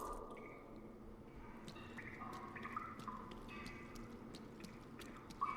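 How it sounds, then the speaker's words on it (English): Water drips from the ceiling in the video game Hellgate: London: scattered, irregular plinks over a low, quiet ambient drone. "Like the water dripping from the ceiling and stuff."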